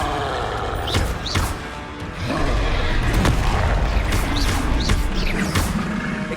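Confringo blasting-spell explosions in the Hogwarts Legacy video game, several heavy booms and crashes in quick succession with roaring creature-like effects, loud and close against a rumbling game soundtrack.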